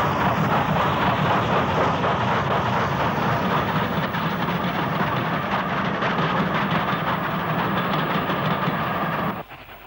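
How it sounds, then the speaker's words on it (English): Steam locomotive 34024 Tamar Valley hauling a train for Waterloo past an engine shed at Weymouth in the 1960s, a loud continuous rumble of wheels and carriages with rhythmic clatter, cutting off abruptly near the end. "34024 Tamar Valley passes the engine shed with a train for Waterloo."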